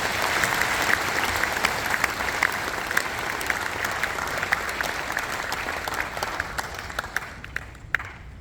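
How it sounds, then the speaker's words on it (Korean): Sustained applause from an audience at a church denomination's general assembly officers' inauguration ceremony, dense steady clapping filling the hall at an even level throughout. "환영하는 마음으로 박수를 모시겠습니다"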